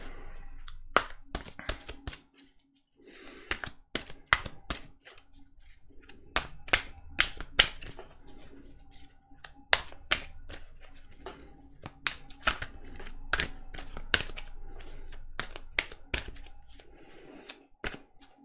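Oracle cards shuffled and laid down one after another, a run of sharp, dry slaps and snaps in irregular bursts, close and fairly loud with short quiet gaps between.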